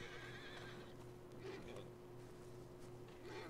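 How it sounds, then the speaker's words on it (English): In the video game Red Dead Redemption 2, horses whinny and neigh from a short distance over a steady background hum, with a faint clip-clop of hooves. "See some horses."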